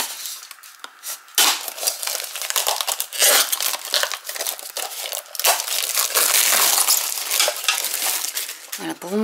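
Crinkling and tearing of plastic wrap while a makeup organizer is unpacked, with rustling and crushing bursts that come and go close by and grow denser toward the end, plus a few small hard clicks.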